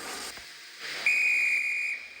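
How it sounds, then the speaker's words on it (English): A train guard's whistle gives one shrill, steady, high blast of about a second after a short hiss, fairly faint and heard alone. "Just then, the guard blew his whistle, and Thomas was on his way."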